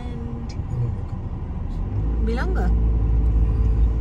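A car drives along a road toward Kingsway, its low steady rumble filling the cabin and growing heavier partway through, while people talk inside.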